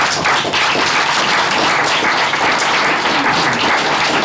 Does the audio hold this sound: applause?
yes